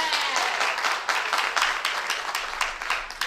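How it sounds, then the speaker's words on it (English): A church congregation breaks into sustained applause for the Lord during a sermon, dense steady clapping filling the room at moderate loudness. "Somebody give the Lord a clap off."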